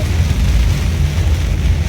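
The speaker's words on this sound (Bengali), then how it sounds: "মানে কি পরিমাণ বৃষ্টি যে হচ্ছে" Heavy morning rain pours down on a flooded Dhaka street with knee-deep water, a dense, loud, continuous roar with a deep rumble underneath.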